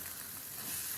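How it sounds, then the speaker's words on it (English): Scrambled eggs frying in a pan, a soft continuous sizzle for about a second, fairly quiet and close, with no voices. "I'm gonna flip my eggs"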